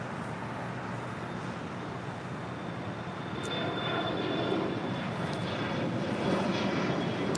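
An Air Premia 787-9 Dreamliner pushing back at LAX gives off a continuous, moderately loud engine and airport hum that swells slightly midway, with a thin high whine present.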